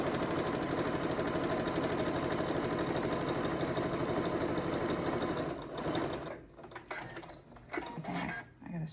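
A sewing machine steadily stitches quilt pieces for a red, white and blue quilt, a loud continuous mechanical whir for about six seconds before it slows and stops, followed by quieter clicks and handling noises.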